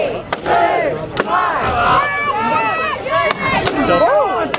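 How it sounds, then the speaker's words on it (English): Crowd at a medieval fair loudly shouting and cheering on a fighter, many voices rising in drawn-out yells, close and energetic, with sharp percussive knocks cutting through. "Can you cheer Jake on as you count him in?"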